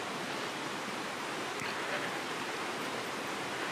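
Kanba Falls waterfall in Maniwa, Okayama, Japan, gives a steady, dense rushing roar of falling water, loud and unbroken throughout with no voices.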